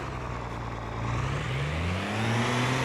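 A pickup truck engine in Farming Simulator 22 hums steadily, then its pitch rises gradually as it revs, with no talking over it.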